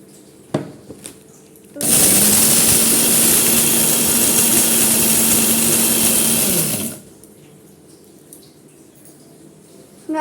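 An electric mixer grinder whirs loudly for about five seconds grinding garam masala spices, starting abruptly and cutting off, with quiet room noise before and after.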